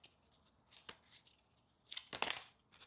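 A deck of board game cards, with a Gloom Skull card added, is shuffled at close range in a quiet room: soft papery riffles and scrapes build to one louder burst of card noise near the end.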